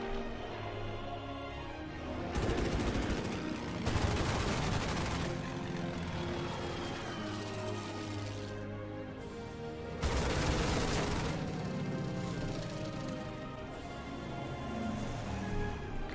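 Anti-aircraft gunfire aimed at a Stuka dive bomber in the World War II strategy game Order of Battle, with two loud bursts of rapid crackling fire standing out over a continuous rumbling battle and engine drone.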